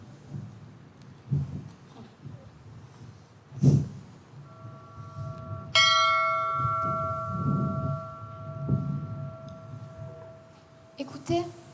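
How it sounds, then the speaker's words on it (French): A chapel bell rings in an outdoor stage play, a sustained metallic tone with ringing overtones that holds for several seconds under actors' voices, with a louder strike near the end. "Écoutez, écoutez, c'est la cloche. La cloche de la chapelle noyée."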